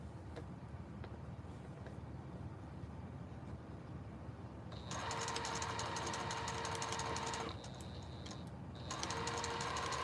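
Sewing machine piecing 2.5-inch quilt squares, fabric fed through without pins; a steady mechanical hum runs in two bursts of stitching after a quieter start, close and fairly loud, with no talking.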